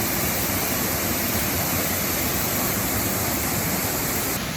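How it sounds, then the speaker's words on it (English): A waterfall in the Columbia River Gorge near Portland roars in a dense, constant wash of falling water, loud and close, steady throughout with no voices. "Beautiful waterfall right here."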